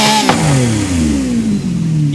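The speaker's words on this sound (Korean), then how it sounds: "엔진 소리 한번 들어봅시다. 스타트." A Korean police car's engine revs loudly up close, its high-pitched exhaust note climbing and then falling away in smooth sweeps, with no voices over it.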